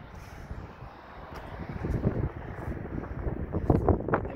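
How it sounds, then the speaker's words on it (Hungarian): Wind buffets a microphone on the rooftop of an abandoned military barracks, a rough, fluctuating rumble that gusts louder toward the end, with no talk over it. "Jaj, de idegesít a szél most."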